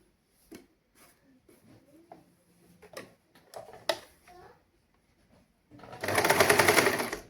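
A sewing machine runs in a loud continuous burst near the end, stitching a saree blouse, after a stretch of quieter handling sounds and soft speech.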